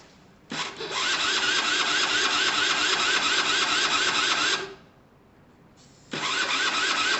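A Gilera DNA two-stroke scooter engine is cranked in a start-up attempt: a loud, close burst of rapid mechanical chattering for about four seconds, a short pause, then a second burst that runs to the end.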